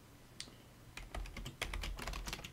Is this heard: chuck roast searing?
no